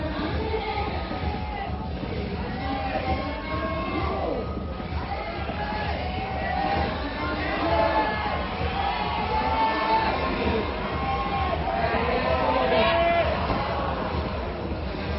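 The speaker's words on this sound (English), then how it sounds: "The crowd is just absolutely awesome here" Arena crowd at the 2011 Climbing World Championship bouldering event in Arco, Italy, cheering and shouting continuously in a busy swell of many voices, with a commentator talking over it.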